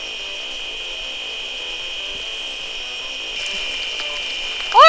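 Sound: chainsaw in the video game Surgeon Simulator 2013

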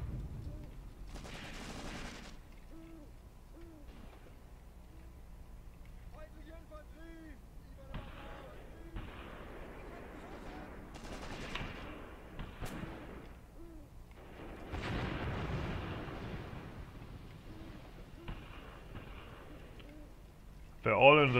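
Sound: mortar firing in the video game Graviteam Tactics

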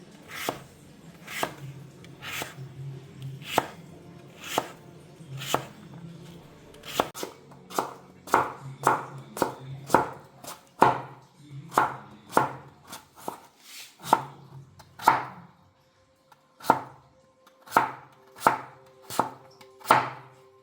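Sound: chopping papaya into small pieces with a knife

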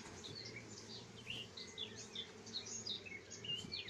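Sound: honey bees buzzing at a beehive

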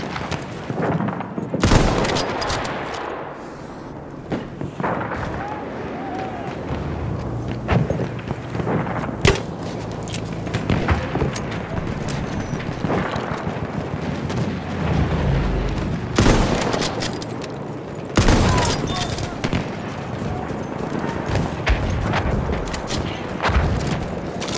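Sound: machine gun fire in the video game Battlefield 1

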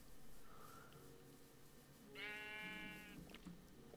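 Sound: sheep bleating in the video game Minecraft

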